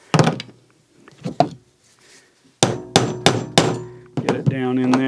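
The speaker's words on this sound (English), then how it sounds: "I'm gonna have to hammer that thing again." Sharp metal hammer strikes on a screw extractor: a few scattered blows, then four loud evenly spaced hits close by, ending in a ringing tone.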